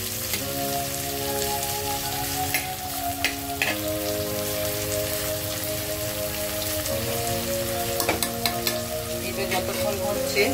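Onions sizzle and crackle steadily in hot oil over sugar cooked until red, a dense close frying hiss with stirring, while a sustained tonal hum runs underneath throughout.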